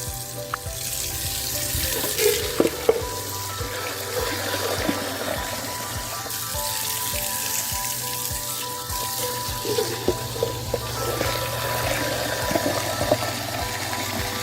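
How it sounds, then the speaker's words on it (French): Running water rinsing a garden watering can and a dosing cup, a steady rushing splash with scattered knocks of plastic, close and fairly loud throughout, with no talking. "je viens vraiment bien arroser, bien laver mon arrosoir et également mon doseur"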